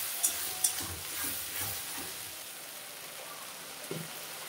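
Ginger, garlic, onion and green chilli paste fries in a pan for a Bengali fish curry, giving a soft crackling sizzle with a few stirring scrapes and clicks, moderately loud and close, with no one talking.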